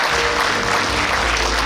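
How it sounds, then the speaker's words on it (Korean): Audience applause at a book launch event in Suncheon, a steady dense wash of clapping from many hands filling the room without pause, fairly loud and close. "박수해주십시오"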